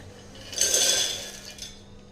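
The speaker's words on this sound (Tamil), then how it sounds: "இப்போ இதை மிக்சி ஜாரில் சேர்த்திக்கலாம்" Roasted lentils poured into a mixer grinder jar, a brief close rattle and clink of the grains hitting the jar lasting about half a second, then quiet.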